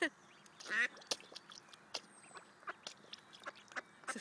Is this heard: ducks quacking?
yes